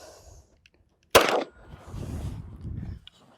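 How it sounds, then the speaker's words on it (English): A single sharp gunshot from a Sig XFive Legion pistol fired during a dirt torture test, loud and close, with a short echoing tail and low outdoor rumble afterward. "I'll fire 1 shot just to make sure."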